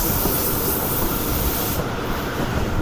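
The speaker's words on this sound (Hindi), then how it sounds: "ट्रेन ब्रेक्स लगा लगा कर नीचे उतरेगी आहिस्ता आहिस्ता" A Subak Raftar railcar rolls down a gradient while braking, giving a loud, dense rumbling roar with broad hissing noise, heard from inside the packed train with no voices.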